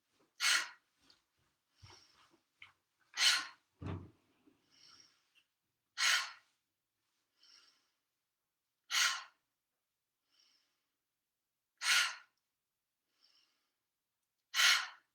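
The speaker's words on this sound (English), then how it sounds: "exhale with a quick breath" Forceful, quick exhales during a solar plexus breathing exercise, six sharp breaths spaced roughly three seconds apart, close and clear in a quiet room with softer breathing between them.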